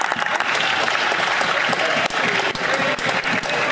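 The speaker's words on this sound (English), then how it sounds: "Conservatives jump up and they clap and they support each other every single opportunity." Sustained applause from Conservative members in the House of Commons during Question Period, dense and steady clapping that fills the chamber for several seconds with a faint murmur of voices underneath.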